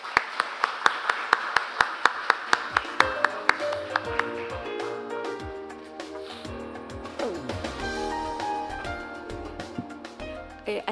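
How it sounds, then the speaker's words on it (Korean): Scattered hand claps open into applause from a conference audience at an architecture and urban forum in a hall, the claps sharp and fairly close at first, then thinning into a softer, sustained patter with faint background sounds. "소장님을 큰 박수로 모시겠습니다."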